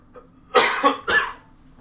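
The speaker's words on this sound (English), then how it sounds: "I've been coughing all day" A person coughs twice in quick succession, close and loud, with a short quiet gap between the harsh bursts.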